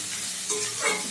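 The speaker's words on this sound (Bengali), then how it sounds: "খুব ভালো করে ভেজে নিচ্ছি এগুলো আমি।" Vegetables for a veg and egg chowmein sizzle steadily in a hot pan while being stirred, with two louder scraping, hissing bursts partway through and no talking.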